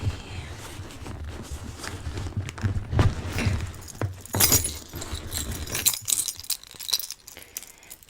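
Keys jangle and clink while someone rummages through a purse, giving a run of small metallic rattles and taps, close and fairly soft.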